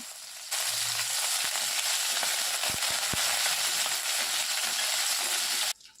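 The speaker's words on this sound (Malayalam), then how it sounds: "ഇനി ഇതിലേക്ക് രണ്ട് ഉണക്കമുളക് രണ്ടായിട്ട് നുറുക്കിയതും കുറച്ച് കറിവേപ്പിലയും കൂടി ഇട്ട് മൂപ്പിക്കുക" Halved dried red chilies and curry leaves frying with mustard seeds in hot coconut oil for upma, a loud steady hiss with a few small pops and clinks.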